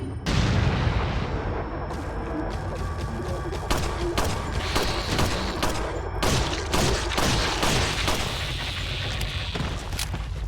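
Handgun shots ring out in Resident Evil 4, a run of sharp, loud cracks fired in irregular bursts, some closely spaced, over a dull background of game ambience.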